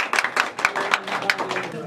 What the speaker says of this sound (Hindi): आगू निकल के जोरदार ताली दो जब विष्णु जी के।